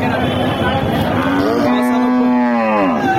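A large six-toothed Friesian cow at a cattle market gives one long, loud, close moo lasting about three seconds, with a steady drone of market noise behind it.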